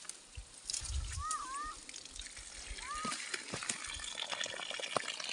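Irrigation water flows into a field in a hill village in Uttarakhand, a steady gushing rush that continues throughout, with a couple of short bird chirps and some low thumps mixed in.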